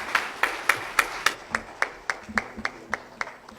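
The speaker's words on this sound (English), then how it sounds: "please continue to clap, continue to appreciate His Excellency the Vice President" An audience applauds the Vice President's speech at a formal event in Ghana, with sparse, evenly spaced claps from a small number of hands, distinct and moderately close, and no voices.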